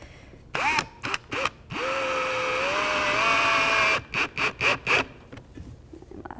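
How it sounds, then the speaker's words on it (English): Cordless power drill spinning a long drill bit, starting with several short bursts, then a sustained whining run of about two seconds, followed by more quick pulses and a fading tail. "I like this long drill bit because when things get weird on the inside and you can't really get your drill in there"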